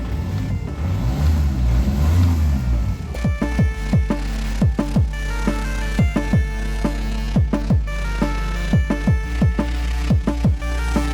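A VW Touran 2.0 TDI 16v BKD diesel with 263,000 miles cranks and starts, then settles into a steady rumbling idle with repeated sharp revs and blips, close and loud throughout.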